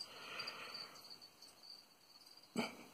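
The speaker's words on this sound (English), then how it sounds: "Cricket sort of wanders off" Cricket chirping as a steady high-pitched trill, faint and continuous, with a brief louder rustle near the end.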